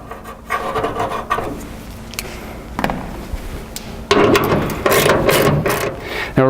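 Stock hood latch being unbolted from a 1966 Chevelle, with close scraping, rubbing and ratcheting of tools on metal in irregular bursts, growing louder and busier toward the end.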